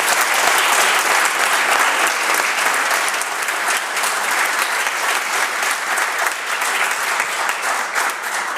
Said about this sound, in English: Give a big round of applause for Roseanne and all the work.